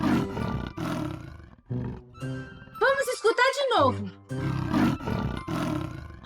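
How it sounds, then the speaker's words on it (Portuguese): Leopard roar played in a children's animal sound guessing game, a run of loud, rough, rasping roars in the middle, with talk before and after. "Este é o som do leopardo!"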